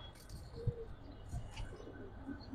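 Giribaz and colouring pigeons cooing softly in a loft or market setting, a few low coos and faint chirps against quiet background murmur.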